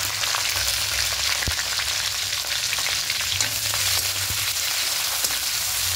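Green chillies and onion fry in oil with bay leaf in a pan, a loud steady sizzle throughout with occasional clicks of stirring, close up and with no talking.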